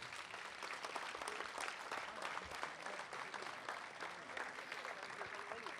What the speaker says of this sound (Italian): tanto che è un applauso anche a Zufredu